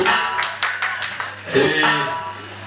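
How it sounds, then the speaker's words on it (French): Guests at a clothing-brand party clap in a short burst of applause that fades under a voice talking over a low background hum. "Applaudissez d'abord pour Ives le bon."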